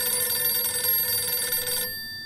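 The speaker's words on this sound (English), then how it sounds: "I have to answer the phone." A telephone rings loud and steady in the Stroke of Fate video game, a continuous electronic ring that stops abruptly near the end.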